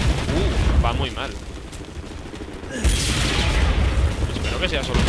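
Gunfire and explosions from the video game Wolfenstein: The New Order crackle and boom continuously, with a heavier blast burst partway through over a dense battle din.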